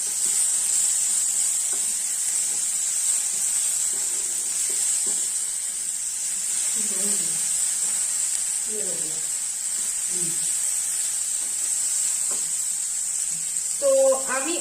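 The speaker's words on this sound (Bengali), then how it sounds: "তো আমি এখন টমেটো দিয়ে দিচ্ছি।" Tomatoes frying in a pan over a flame give off a soft, steady sizzle and hiss that carries through the whole stretch, with a few light clinks and someone speaking quietly over it.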